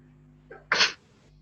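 A single sharp sneeze, close and loud, comes after a brief soft intake of breath, with a faint background hum before and after.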